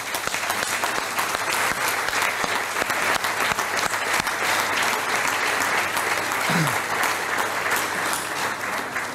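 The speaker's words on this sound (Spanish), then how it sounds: "pido para todos vosotros un fuerte aplauso" Sustained applause from a large audience at an anniversary gala, dense steady clapping filling the whole stretch at even loudness, with a brief murmur of crowd voices underneath.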